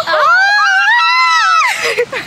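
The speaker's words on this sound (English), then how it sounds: "Can you hear her scream?" A woman screams in excitement at a veterans honor flight welcome. A long, loud, high-pitched shriek lasts over a second, followed by a crowd's noisy chatter and cheering.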